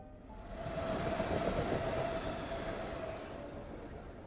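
A train ride in a video game, with a steady rumbling roll of rail wheels and carriage noise, a soft clatter and faint squealing tone at moderate level throughout, no talking.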